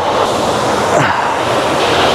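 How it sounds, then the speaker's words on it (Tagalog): A river rushes near waterfalls in Laguna, a dense, loud, continuous roar of flowing water that stays even throughout with no voices over it. "naririnig ko na naman yung lagaslas ng tubig"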